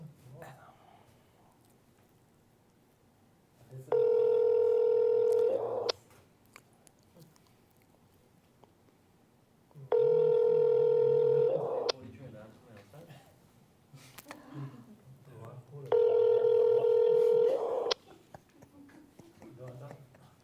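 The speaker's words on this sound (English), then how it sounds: "Go answer your phone." A telephone rings three times, each a loud, steady electronic tone lasting about two seconds with pauses of several seconds between, while people talk quietly in the gaps.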